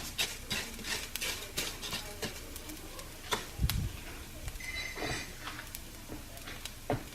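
Mexican rice being stirred in a pot, with irregular scraping and clinking strokes of a utensil against the pot at close range and no voices.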